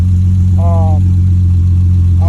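A 1988 BMW 325i E30 engine with a badly corroded, disintegrating exhaust runs as a loud, steady, close low drone throughout, and a voice speaks briefly over it twice.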